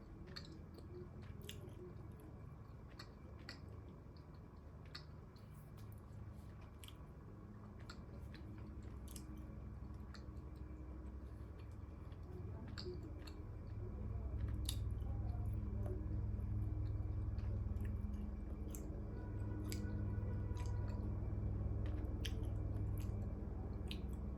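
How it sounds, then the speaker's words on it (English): Gum being chewed up close, with soft wet squishing and faint clicking mouth sounds repeating steadily over a low background hum. "So I'm just going to chew this"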